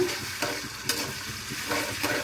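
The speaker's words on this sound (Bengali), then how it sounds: "প্রথমে আমি দিয়ে দিলাম পেঁয়াজ কুচি তেলটা গরম হয়ে গেছে" Chopped onion fries in hot homemade mustard oil at the start of a beef bhuna, giving a steady, close sizzle broken by occasional stirring scrapes, with no talk.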